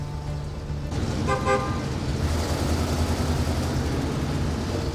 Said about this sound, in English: Listen to that old 460 burr, boy.